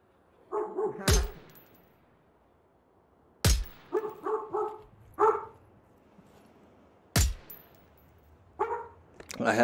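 A dog barks in short bursts near a microphone, some barks coming in quick strings of three or four, spaced by pauses, with sharp clacking knocks between them.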